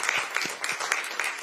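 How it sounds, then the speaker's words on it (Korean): Brief scattered clapping from a small audience at a party leadership meeting, honoring a council member who is resigning; a few loose, slightly uneven claps at moderate distance over a second or so. "박수 한번 부탁드립니다"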